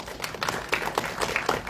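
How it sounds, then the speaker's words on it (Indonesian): Audience applause at an Indonesian film press event for Bangsal Isolasi, greeting the film's producer: a short burst of scattered clapping with uneven peaks, fairly close and moderately loud. "tepuk tangan dulu teman-teman"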